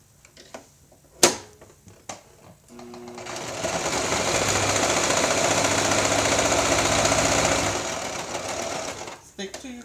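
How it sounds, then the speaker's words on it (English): A sewing machine stitches a quilt block seam: a few clicks and taps first, then a steady, fast mechanical whir runs for about five seconds before stopping, close by. "Then you sew the first seam, first of 3 seams only."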